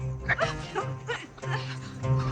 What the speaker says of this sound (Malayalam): പട്ടി പട്ടി